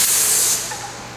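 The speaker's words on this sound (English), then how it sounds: "we'll test spray now at the minimum pressure" An electric piston-pump airless paint sprayer test-sprays at minimum pressure, giving a loud, steady close-up hiss of atomized paint that eases slightly partway through, with no talk.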